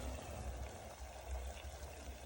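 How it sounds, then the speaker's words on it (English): A small amount of water is poured into a pot of pilau mix with tomato paste, a faint continuous trickling splash lasting a couple of seconds under soft kitchen background noise. "a small bit of water, just a small bit of water"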